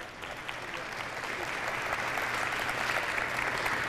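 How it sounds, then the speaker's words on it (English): Applause from the audience at a Mars mission prelaunch briefing, a steady wash of many hands clapping at moderate volume that builds slightly and holds for several seconds. "Big round of applause for them."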